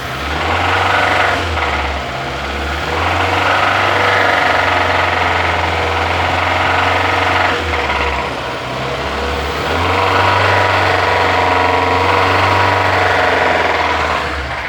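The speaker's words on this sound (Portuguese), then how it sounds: "vou ligar o carro aqui para vocês verem como tá o barulho aí do motor" Renault Logan 1.0 engine running and being revved, with a rough, uneven low drone that swells in several surges and dips, plus harsh rattling knocks from the faulty motor, recorded close to the engine bay.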